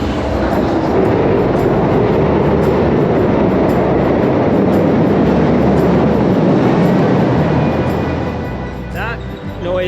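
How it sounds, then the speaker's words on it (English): A loud, continuous rumbling roar of a passing Via Rail passenger train on the Toronto waterfront dominates, steady for most of the stretch before easing slightly near the end. "That noise was the Via Rail train."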